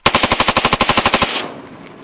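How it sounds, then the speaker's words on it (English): Automatic AK-47 rifle fired at body armor, a rapid burst of about fourteen loud, close, evenly spaced shots lasting just over a second, followed by a short decaying echo. "we're gonna go AK-47 right at his chest"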